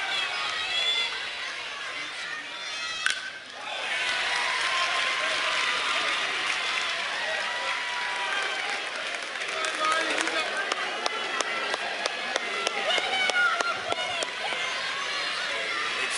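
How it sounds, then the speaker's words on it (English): A loud stadium crowd at a Little League World Series baseball game roars and cheers continuously, with a brief dip before swelling again, while an announcer talks over it. "The South Carolina crowd very loud."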